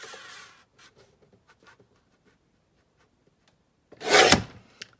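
Paper for a paper bag junk journal is trimmed with a few soft scrapes and light snips near the start, then a loud close rasping cut or tear that rises and fades near the end, with no talking.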